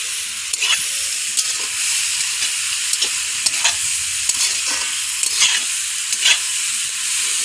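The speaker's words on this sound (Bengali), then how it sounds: "বাঁধাকপিটা ভালো করে ভেজে নেবো একটু।" Cabbage being stir-fried for village-style veg chowmein, a steady loud sizzle in a pan with repeated scraping stirs at an uneven rhythm, no voices.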